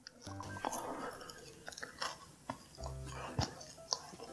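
Close, crunchy chewing of a hard, low-sugar Lotte Zero chocolate, with irregular crisp bites and soft mouth sounds, isolated and mostly free of talk.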